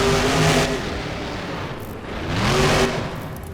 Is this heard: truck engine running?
yes